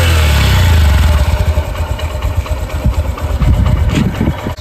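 A Honda CD110 Deluxe motorcycle engine runs close by, a steady idle that picks up with a few rev pulses, loud and heard alone.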